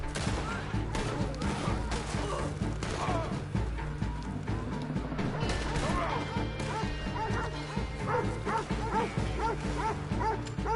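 Dogs bark and yip repeatedly in the Red Dead Online video game, their sharp barks layered over gunfire and other game noise in a dense, loud, continuous mix.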